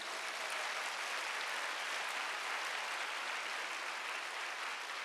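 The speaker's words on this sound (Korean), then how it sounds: "목사님 힘내시라고 박수 한번 보내드리겠습니다" A church congregation at a spring mountain revival meeting claps for the pastor, a dense, steady wash of applause from many hands, sustained evenly throughout with no voices standing out.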